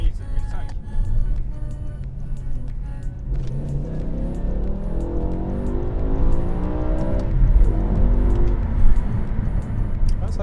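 A BMW M5 E60 with its V10 engine revving high, a loud rising engine roar building from a low rumble into climbing harmonic tones, heard from inside the car with people talking over it.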